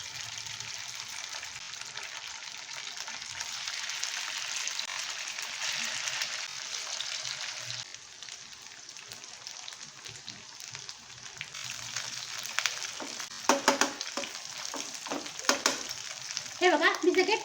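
Potato and semolina cutlets frying in hot oil, a steady bright sizzle that loudens as pieces go in, with a few sharp spatters and clinks toward the end.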